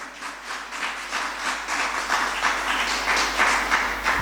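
Church congregation clapping and cheering for God during a service, a steady dense wash of applause that holds loud throughout with no speech over it.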